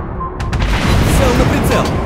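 A loud, deep boom rolls out as an enemy warship is hit and destroyed in a World of Warships Blitz naval battle with the Soviet tier 6 cruiser Admiral Makarov, a sustained rumbling blast with crackling debris filling the moment, with game voice callouts over it.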